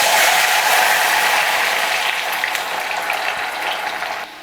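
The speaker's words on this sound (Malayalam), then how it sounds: "കൈകൊണ്ട് നന്നായിട്ട് പിഴിഞ്ഞിട്ട് കുറേശ്ശെ ആയിട്ട് വറുത്തെടുക്കുക" Potatoes frying in hot oil in a pan: a steady, dense crackling sizzle heard up close throughout, easing slightly toward the end before cutting off.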